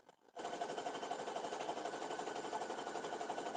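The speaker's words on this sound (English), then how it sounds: "we'll just stitch along here as if this extra isn't even here." Sewing machine stitching quilt fabric with batting, starting after a brief pause and then running as a steady, fast, close mechanical whir that continues evenly to the end.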